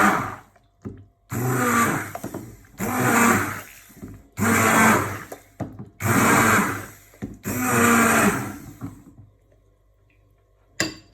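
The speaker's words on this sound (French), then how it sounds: "je vais mixer les fraises" A kitchen blender pulses through fresh strawberries for homemade ice cream, five loud, close bursts of whirring motor of a second or two each, separated by short pauses, with no talking over them.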